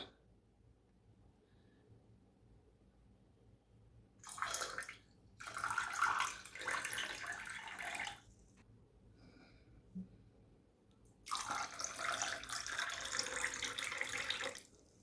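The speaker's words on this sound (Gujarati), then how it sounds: "ઠંડુ પાણી લઈએ." Cold water pours into glasses holding ice and raw mango syrup, heard as two or three separate close bursts of splashing flow with short quiet gaps between them.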